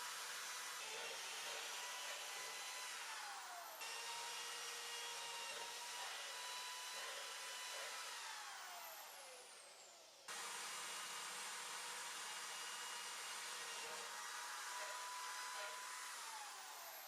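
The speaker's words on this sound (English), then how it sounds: "I am using a long bit to transfer this hole to the opposite side of the frame" A power drill with a long bit bores a hole through a frame during a rear motor and gearbox build, a steady high whine that dips briefly and restarts, running continuously and fairly quietly.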